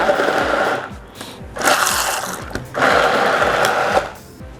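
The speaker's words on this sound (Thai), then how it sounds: "ปั่นให้ละเอียดเลยจ้า นี่นะคะเอาให้ได้ละเอียดแบบนี้เลยนะคะ" An electric blender whirs loudly and steadily as it purées taro filling for a Thai taro custard tart, the motor pitch dipping and surging in two or three pulses, with no one talking.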